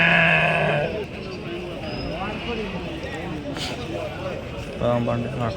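Sheep bleat at a busy Tuesday livestock market in Kadiri amid steady crowd noise and nearby talk, with clear bleats at the start and near the end.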